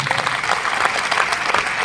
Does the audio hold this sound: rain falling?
no